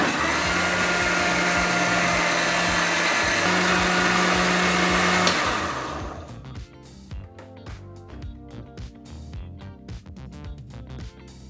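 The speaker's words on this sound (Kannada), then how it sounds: "ಈಗ ಇದನ್ನೆಲ್ಲ 1 ನಿಮಿಷಗಳ ಕಾಲ ಗ್ರೈಂಡ್ ಮಾಡ್ಕೊಳ್ಳೋಣ." A mixer grinder blends eggless mayonnaise made from oil and milk, whirring loud and steady at high speed for about five seconds. It then cuts off, leaving faint clatter and spin-down noise.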